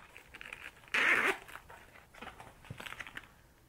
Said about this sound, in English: Now I'm going to go ahead and zip it back.